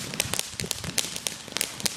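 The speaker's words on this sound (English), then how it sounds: "Awesome people's fireworks." Fireworks and firecrackers pop and crackle in quick irregular bursts of sharp bangs, fairly close and moderately loud, with no talking.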